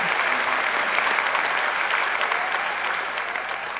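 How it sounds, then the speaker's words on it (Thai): A studio audience at a televised singing competition claps loudly for two singers, a thick continuous applause that eases off slightly toward the end. "ขอเสียงปรบมือทั้งสองท่านครับ"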